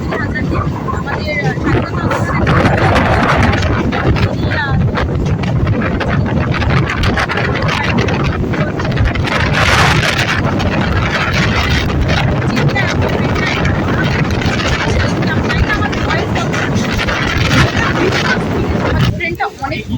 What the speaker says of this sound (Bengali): দেখো কি দারুণ হাওয়া দিচ্ছে